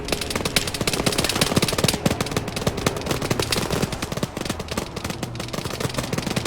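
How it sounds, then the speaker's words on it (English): Dense, continuous video game gunfire from several directions, with rapid machine-gun bursts and single shots overlapping throughout at a steady, loud level, and no voices. "we're getting shot from every road"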